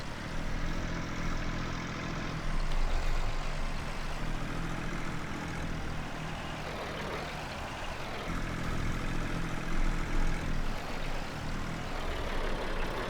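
A vintage Massey Ferguson MF20 tractor drives to a field, its engine a loud, continuous, rough low chug that holds steady for the whole stretch with slight surges.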